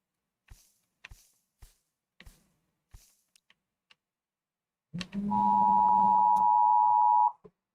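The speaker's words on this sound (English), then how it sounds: "My phone decided to just scream at me." Several soft ticks and taps are followed by a loud, sustained electronic tone from a phone that blares steadily for about two and a half seconds before cutting off.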